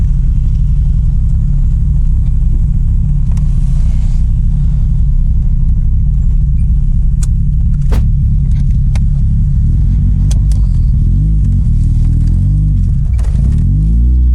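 An Opel Kadett's engine rumbles loudly from close by under steady throttle, then rises into revving surges near the end as the car accelerates.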